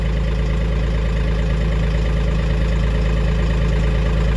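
A tractor engine runs steadily at idle on a farm, a constant low, even rumble with a mid-pitched chug that holds unchanged throughout, close and fairly loud.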